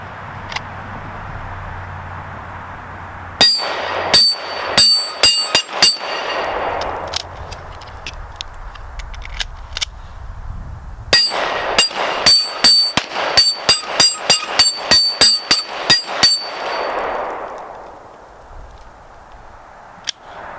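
An M&P M2.0 Compact pistol fires Federal HST rounds in two rapid strings of sharp, loud, close shots, each string about a dozen rounds long, with a brief pause between them.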